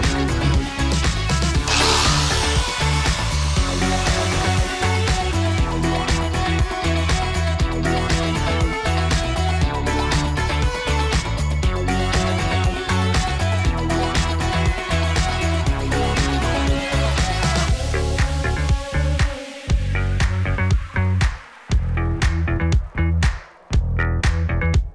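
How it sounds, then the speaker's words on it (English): A loud power sander grinds a jack bolt continuously for a long stretch, dipping and cutting out briefly near the end before resuming. "we're just gonna sand this guy off till it fits in the hole"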